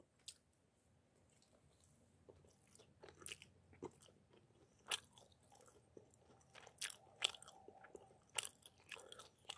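Crunchy bites and moist chewing of microwaved crust-edge pizza, close and intimate in a quiet room, coming in irregular bursts with soft pauses between, no talking.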